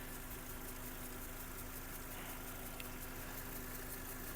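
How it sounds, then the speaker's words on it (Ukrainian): A 2006 Volkswagen Golf 5 with a 1.6 MPI petrol engine idles with a quiet, steady, even hum and a faint constant drone, with no voices. "Мотор працює тихо, рівно, не димить,"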